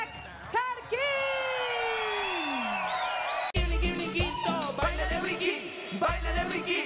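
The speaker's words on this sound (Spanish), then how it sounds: "recibamos con un fuerte aplauso a Isaac Harkin" A TV studio audience on a variety show whoops and yells in long rising and falling cries, then upbeat dance music kicks in with heavy thumping beats under the noise.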